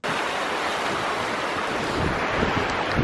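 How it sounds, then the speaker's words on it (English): Heavy rain and strong wind sweep over Lake Wanaka in cold weather, a dense, loud, continuous wash of rushing noise with gusts buffeting close to the microphone. "It is chucking it down with rain."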